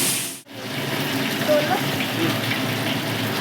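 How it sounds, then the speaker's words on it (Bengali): Parshe fish frying in hot oil, a steady close hiss and bubbling sizzle that rises after a brief break and continues evenly, with a voice faintly present. "একে একে ভেজে নেব।"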